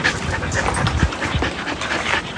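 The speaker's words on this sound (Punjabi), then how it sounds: "ਹੁਣ ਦੇਖੋ ਕਿੰਨਾ ਭੌਂਕਦਾ ਪਿਆ, ਹੁਣ ਪੂਰਾ ਐਕਟਿਵ ਹੈਗਾ" Village dog barking and panting in short excited bursts, close and fairly loud, with no talk over it.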